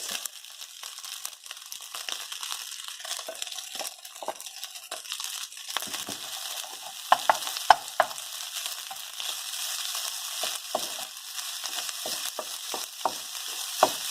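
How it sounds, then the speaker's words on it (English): Fried rice stirred and frying in hot oil in a pan for a Hawaiian bar-food dish, with a steady sizzle and repeated scraping stir strokes throughout, a few sharper clanks midway, no voices. "Remember, the fried rice gotta be fried, so we keep frying the rice."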